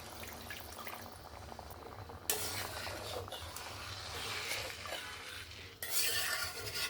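Water poured into a pan of nona tangra fish oil-jhal curry, a steady broadband rush that swells in two stages over faint stirring and clinks, close and moderately loud.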